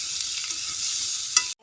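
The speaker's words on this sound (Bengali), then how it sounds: "দিয়ে দেব আলুগুলি, দেব হলুদ গুঁড়ো, ভালো করে মিশিয়ে নাড়াচাড়া করে মিশিয়ে নেব।" Potatoes coated with turmeric powder are stirred and fried in a pan, giving a steady broadband sizzle with faint scraping strokes and one sharper clink near the end before the sound cuts out.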